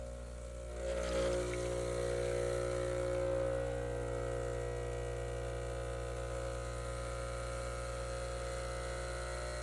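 An espresso machine pumps and brews espresso made with Heart Rock coffee, a steady droning mechanical hum that swells slightly after the first second and holds evenly throughout, with no voices.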